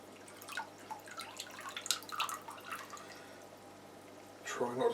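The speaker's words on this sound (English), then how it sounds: "Try not to drip too much water on the floor if we can help it." Scattered water drips and small splashes during a water change on a Fluval Roma 200 aquarium, irregular and close, with soft sloshing near the end.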